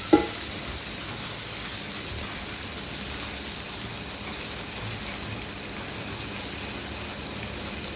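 Stuffed green chillies, bharli mirchi, fry in oil in a pan with a steady, even sizzle like light rain, close and continuous, with a faint clink at the start.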